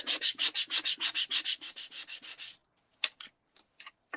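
A nail file scrapes back and forth in quick, even, rhythmic strokes while card-making with paper punches, then slows to a few scattered short rasps after a pause.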